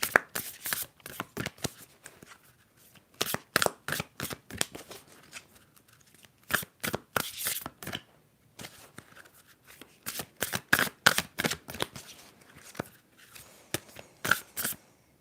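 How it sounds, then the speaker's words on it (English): Oracle cards are shuffled up close, crisp rapid riffling bursts and sharp flicks in repeated bouts with short pauses between, no talking over them. "let me know if the shuffling's too loud."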